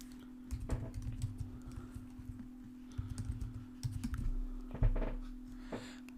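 Keystrokes on a computer keyboard as a name is typed while setting up an Azure logic app, a quiet uneven patter of clicks and short bursts over a low steady hum, with no talking.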